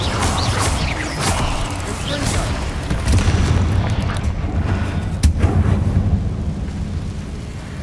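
Bombarda explosion spells in Hogwarts Legacy burst repeatedly as loud booming blasts over a dense, rumbling game soundscape, with a sharper impact near the middle of the run.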